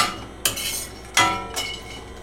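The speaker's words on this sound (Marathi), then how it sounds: "तर सर्वात पहिले मी खोबरं थोडंसं रोस्ट करून घेणार आहे" A metal spoon clinks and scrapes against a pan as grated coconut is stirred while dry-roasting, three sharp knocks spaced about a second apart standing out over a soft, steady background hiss.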